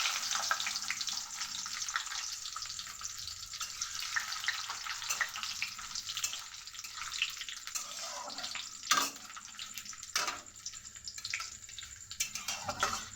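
Cloves, cinnamon, cashews and raisins frying lightly in oil for pulao, a steady sizzle and crackle that continues throughout with a few sharper stirring bursts and no voices.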